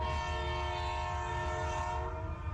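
A train horn sound effect in a radio train-schedule jingle for a Lagos traffic station, a long sustained multi-tone blast with rumbling low rail noise beneath, loud and steady before fading slightly at the end.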